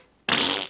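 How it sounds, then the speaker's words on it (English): A single sharp fart bursts out abruptly and holds for nearly half a second, loud and close, then cuts off. "I might have to fart."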